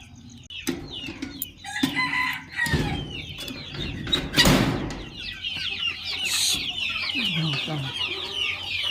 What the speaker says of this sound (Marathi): चला आपल्याला कोंबड्या सोडायला.